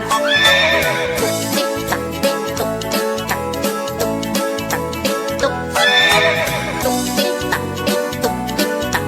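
Hooves of a horse drawing a delman cart clop in an even rhythm, with two shrill whinnies, one near the start and one later, all mixed with a loud, upbeat children's song.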